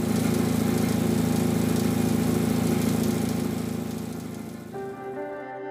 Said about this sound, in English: This is where WGN's heating, cooling, electrical, mechanical, fan, and exhaust systems are all located